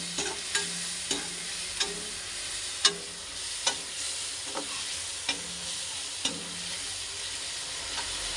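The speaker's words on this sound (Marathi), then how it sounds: "हळद मी अर्धा चम्मच टाकते आहे। त्यानंतर एकदा मिक्स करून घ्या।" Poha with turmeric is stirred in a frying pan: a soft continuous sizzle punctuated by regular spoon scrapes and taps, roughly one every second, close and moderately quiet.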